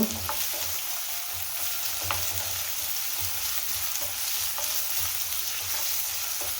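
Mixed vegetables and beans fry in a pan for veg hakka noodles, a continuous close sizzle broken by a few sharp scrapes and taps of stirring, no talk.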